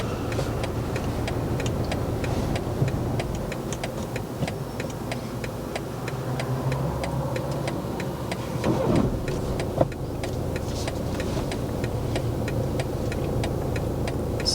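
Car engine humming steadily inside a vehicle on a driving lesson, a low continuous drone under a regular ticking like an indicator, with a brief knock near the middle and no talk.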